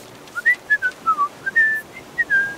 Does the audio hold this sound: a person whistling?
yes